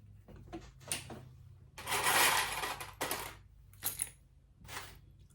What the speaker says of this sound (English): It's always so loud getting my clips, isn't it?